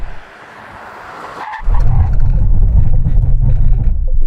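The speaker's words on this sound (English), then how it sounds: "we're going to do a brake test from 60 miles an hour" A heavy 2.2-ton Chinese SUV brakes hard from 60 mph. A brief tire squeal is followed by a loud, close, low rumble of the car that continues to the end.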